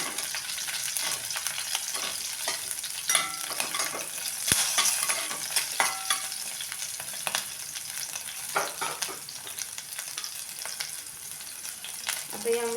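Curry leaves and green chillies stirred in hot oil, a steady close sizzle with repeated spatula scrapes and occasional sharp pops throughout.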